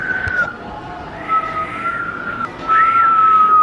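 A person whistles a wavering, high tune in a few short phrases inside a Broadway museum in New York, with a faint murmur of people and room noise beneath.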